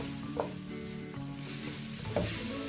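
Cabbage and sliced capsicum sautéing in a pan make a soft, steady sizzle, with a couple of brief scrapes and knocks of a stirring spoon, close but fairly quiet, no voices.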